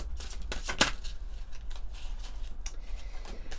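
Oracle cards being shuffled by hand, a soft papery riffling with scattered brushing bursts and one sharper snap near the start, close and fairly quiet over a low steady hum.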